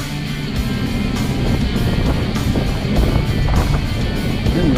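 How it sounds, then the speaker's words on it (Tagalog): Strong wind buffets the microphone in heavy rumbling gusts on a boat at anchor at sea, a constant low roar with bursts rising and falling, no talking heard. "Yun lang, malakas sa hangin."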